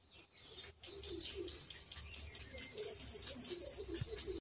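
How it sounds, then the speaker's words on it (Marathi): Sparrows chirp steadily in high, busy twittering after overnight rain, with soft cooing and faint wing flutters underneath; no one speaks. "चिमण्या पण चिवचिव करायला लागल्यात"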